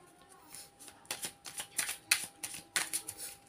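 A deck of tarot cards being shuffled at close range, with a string of quick riffling bursts and soft slaps that come in irregular clusters, alone and with no talk.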